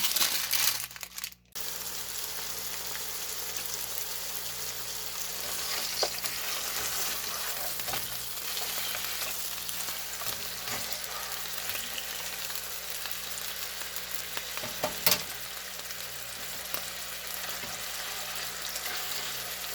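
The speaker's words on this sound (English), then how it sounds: "So I'm just going to throw the hamburger patties in. And we're going to get these cooked up." Hamburger patties fry in a hot pan with a loud, steady sizzle that runs unbroken for about twenty seconds, marked by an occasional faint clatter, with no talking.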